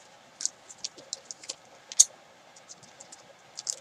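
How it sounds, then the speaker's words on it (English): Quiet, irregular snipping clicks, a dozen or so short crisp snaps spread across a few seconds, like scissors struggling through thin crinkly plastic. "my scissors just don't like cutting that"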